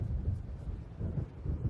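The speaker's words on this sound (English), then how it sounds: "It seems there's a storm coming." Distant thunder from an approaching storm in Alan Wake, a low soft rolling rumble that swells and fades twice over a couple of seconds, faint and alone.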